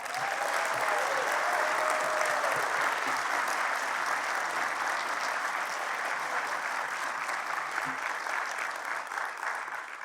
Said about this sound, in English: I think he deserves from us a special loud round of applause